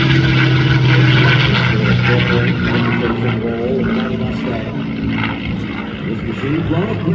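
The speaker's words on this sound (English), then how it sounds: "This machine flown aggressively by Vicky, who's an air race pilot, but precise." A P-51D Mustang propeller fighter flown in an aerobatic air show demo at MCAS Miramar, its engine drone steady and loud throughout while a commentator talks over it.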